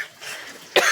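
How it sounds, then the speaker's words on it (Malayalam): A single short cough from someone cooking fish curry as chili fumes rise, sharp and close at the end of a quiet moment. "ചുമ കുത്തു വന്നിട്ടേ മുളകിൻ്റെ."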